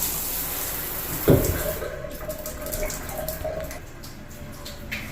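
Shower water runs in a house bathroom, a continuous nearby spray with a brief knock partway through and a faint tonal hum beneath, no voices heard.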